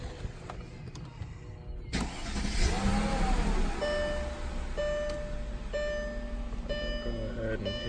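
A Mercedes-Benz W220 car engine starts after a moment and settles into a steady running hum nearby, with faint electronic beeps over the idle.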